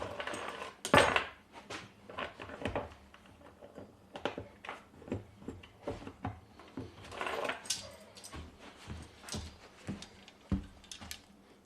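A big screwdriver levers down the metal pan of a trap, giving scattered metallic clanks, scrapes and taps at close range, irregular and fairly quiet, with a few sharper knocks.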